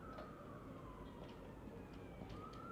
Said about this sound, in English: You can still hear the sirens blaring in the background